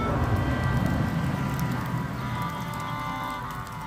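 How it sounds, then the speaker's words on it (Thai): Hail falls outdoors in winter, a dense, steady rush of icy patter that holds at a constant loudness throughout with no voices. "ลูกเห็บน้อยๆเนาะจ้า"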